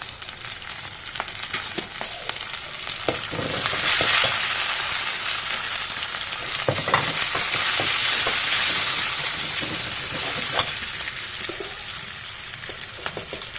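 Onions and green chillies sizzle steadily in a hot pan, with a spoon scraping and stirring through them in irregular strokes; a continuous close frying hiss with no voices.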